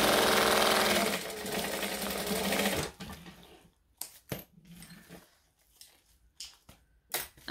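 A sewing machine runs at a fast steady stitch along a seam near a zipper, then stops, leaving scattered clicks and short bursts of stitching as the fabric is pivoted.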